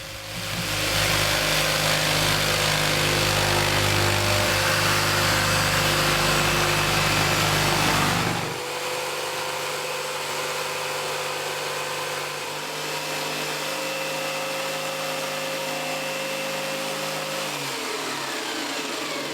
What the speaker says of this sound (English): Grab a jigsaw.